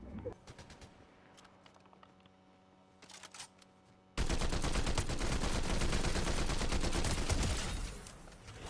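Rapid automatic gunfire in the video game Fortnite erupts suddenly after quieter in-game ambience, a loud, dense burst of shots lasting several seconds before easing off.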